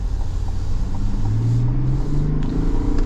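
The diesel engine of a 2026 GMC Yukon AT4 XL rumbles under acceleration, a smooth low drone rising gently in pitch, heard steadily from inside the cabin with road noise.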